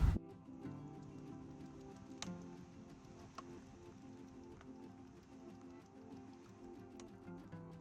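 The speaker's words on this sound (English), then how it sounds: "Finally some rain." Light rain falls at a dusty roadside camp in the Australian outback beside a Hiace 4x4, with soft steady patter and occasional sharp drip ticks, faint and continuous with no voices.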